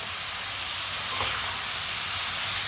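Grated carrots sizzle in hot oil for gajar ka halwa, a steady, even hiss running close and unbroken throughout with no voices.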